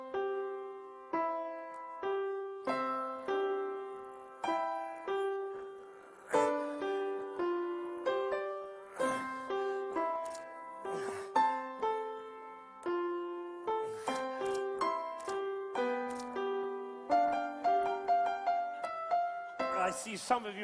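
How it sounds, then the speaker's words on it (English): Solo piano played by a seven-year-old child, with separate plinking notes struck at an uneven, halting pace over about twenty seconds, each note decaying before the next, fairly faint, no voices. "remind you of what a 7-year-old child sounds like when he plays the piano"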